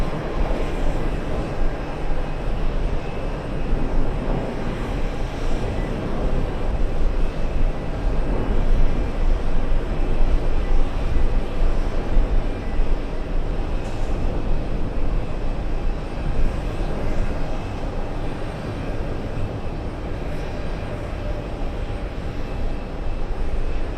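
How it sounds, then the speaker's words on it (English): A fixed-wing airliner roars down runway 13 right on its takeoff roll, a loud, sustained broadband engine rumble that swells slightly midway and holds steady without speech. "this is the first takeoff on runway 13 right."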